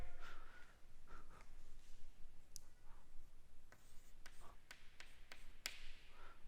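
Pen or chalk writing during a quantum mechanics physics lecture on angular momentum, a series of faint scratchy strokes and taps spread irregularly across a quiet room.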